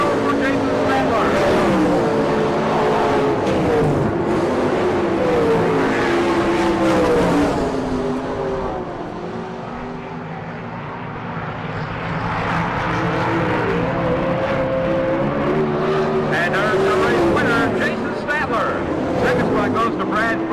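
410 non-wing sprint cars roaring around a dirt oval in a race, engines droning loudly and continuously with rising and falling pitch as cars pass, under a track announcer's commentary.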